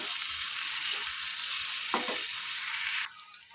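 Three large onions fry in a pan with meat for a chicken dish, browning under a loud, dense, steady sizzle that drops off sharply near the end, close and without speech.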